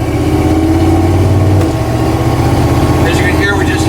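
A 1974 Ford Bronco engine drones loudly while driving and shifting gears, a steady low rumble with a change in pitch as it moves into the next gear, with a voice talking over it.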